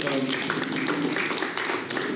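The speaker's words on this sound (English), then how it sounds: "Let's receive her with an applause." Brief burst of audience applause greeting a guest speaker at a talk on racism and discrimination: scattered hand claps from a modest crowd, fairly even throughout, with voices talking over it.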